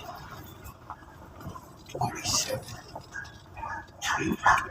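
Dogs bark in short bursts in Highland Park, Chicago, heard at a moderate distance over quiet outdoor ambience, with a couple of clusters of barks spread across a few seconds.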